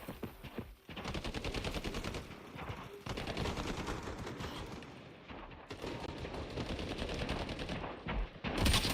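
Rapid video game gunfire rattles in long, dense bursts of automatic shots with brief gaps between them, loud and close throughout.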